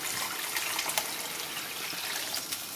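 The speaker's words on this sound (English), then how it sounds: "Then we add the stock," Stock poured into browning mince in a pan while making Cumberland pie, a steady liquid gush and trickle lasting a few seconds, close and moderately loud with no talking.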